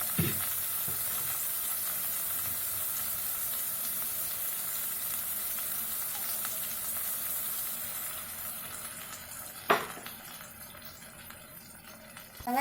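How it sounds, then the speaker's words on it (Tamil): Large onions sautéing in a pan until golden for a mushroom kurma produce a continuous soft sizzle and hiss, with one sharp clatter near the end as the pan is handled. "நல்லா பொன்னிறமாக வர வரைக்கும் நல்லா வதக்கி எடுத்துப்போம் பெரிய வெங்காயத்தை"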